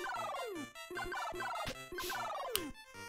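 Birds in the NES game Dr Jekyll and Mr Hyde, chirping as repeated descending electronic warbles in quick sequence, alongside bouncy chiptune music and sharp game effects.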